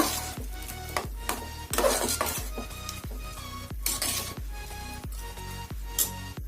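A spoon stirs and scrapes a tempering (oggarane) in a pan for bisibele bath, metal clinking against the pan in regular rhythmic strokes, with a light sizzle between them.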